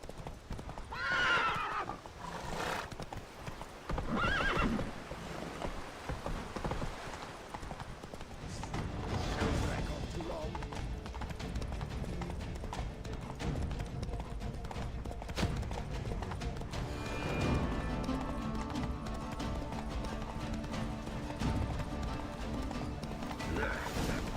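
Roach, the horse in The Witcher, gallops with steady, rapid hoofbeats and a clear whinny, heard over a busy game soundscape and continuing throughout.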